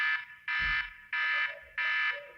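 The iOS 6 Alarm tone sounds on an iPod Touch 2G in three long, loud buzzing electronic pulses separated by short gaps, with nothing else around it.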